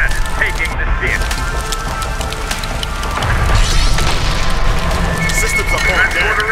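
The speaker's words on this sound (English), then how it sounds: "They just blew a tunnel through the cliffside!" An explosion blasts a tunnel through a cliffside in the video game Terminator: Dark Fate - Defiance, a loud rumbling boom with crackling debris that swells partway through, mixed with battle noise and voices talking over it.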